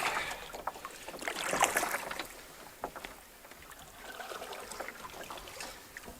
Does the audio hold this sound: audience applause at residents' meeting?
no